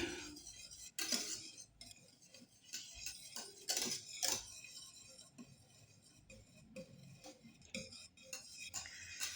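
Butter being stirred into an orange mousse mixture off the heat, a utensil clinking and scraping against the bowl in irregular taps and strokes, close and fairly quiet, with no voices.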